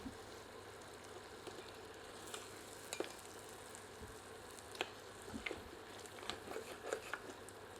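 Masala for a goat trotter (paya) curry sizzles and fries in a pan, a steady soft crackle with scattered sharper pops and stirring scrapes, close and fairly quiet with no talking.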